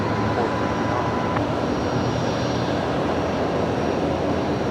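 An aircraft inbound from Darwin arrives at Brisbane Airport with a steady, loud, broadband engine roar that holds unchanged over several seconds.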